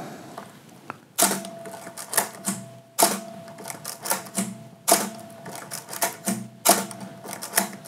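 A Canon A1 35mm film camera fires its mirror and shutter mechanism repeatedly, five sharp mechanical clacks at regular intervals, each followed by a short whirring, ticking gear run.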